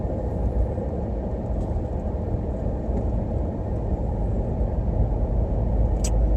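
A 2019 Nissan Titan Pro4X pickup tows a trailer of ATVs down a steep grade in the Rockies at around 2,200 RPM, giving a steady, close, continuous engine and road rumble with no talking.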